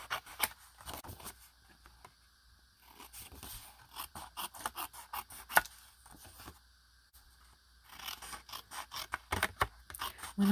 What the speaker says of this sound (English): I'm going to cut my postcard size 4x6